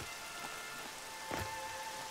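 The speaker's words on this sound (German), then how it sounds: "Noch mehr Regen." Rain falls in the video game Horizon Zero Dawn, a soft, steady patter of drops hitting surfaces, quiet and even over a brief moment with one slightly louder splash, and nobody speaking.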